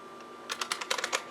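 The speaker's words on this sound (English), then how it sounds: "I just type away endlessly on this Model M2 keyboard" Quick bursts of clacky Model M2 mechanical keyboard typing, close and crisp, a rapid run of keystrokes after a brief quiet start.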